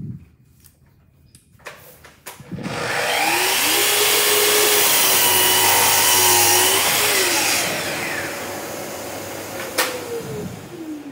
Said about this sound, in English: to get more efficiency in the dust extraction, it's quite neat if you have a thicker hose, because it creates more airflow